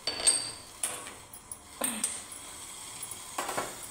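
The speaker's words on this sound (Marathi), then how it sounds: "आलं खिसून घालण्यापेक्षा तुम्ही असं ठेसून घातलं ना" Fresh ginger pounded for tea with a few sharp metallic knocks and clinks, spaced irregularly, close and fairly quiet, with no talking.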